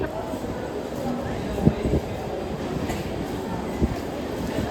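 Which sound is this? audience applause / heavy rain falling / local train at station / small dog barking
local train at station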